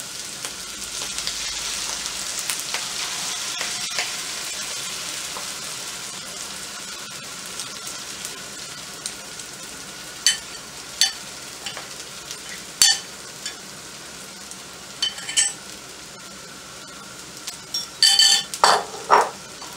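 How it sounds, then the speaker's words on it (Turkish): Parsley and egg mixture poured slowly into a hot pan, giving a steady, close hiss of frying with scattered crackles and pops that grow busier toward the end; no talking. "Şimdi üstüne maydanozlu yumurtamızı döküyorum arkadaşlar."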